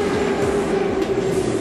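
A Moscow metro train rumbles past just outside a bunker door, steady and loud, with a sustained tonal whine over the low roar.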